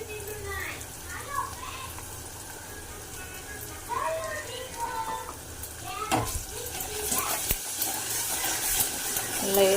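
A spoon stirs ginger garlic paste and turmeric in a pan with soft scraping and a light sizzle, under a talking voice and faint background chatter.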